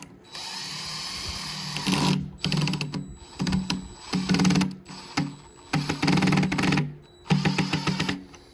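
A power drill drives a screw on site while fitting custom stone firepit coping, whirring in repeated close bursts separated by short pauses.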